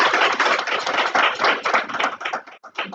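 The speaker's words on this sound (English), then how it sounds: "Let us give her a round of applause." Applause from a seminar audience, dense and steady clapping that fills the whole span, close and fairly loud, thinning slightly near the end.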